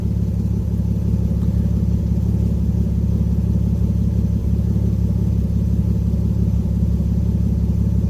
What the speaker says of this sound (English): right now it's just idling.